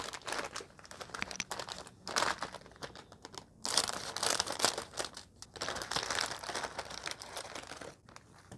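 Nongshim Shin Ramyun noodle packaging being opened, with continuous crinkling and crackling plastic in close irregular bursts, some louder rustles midway and no talk.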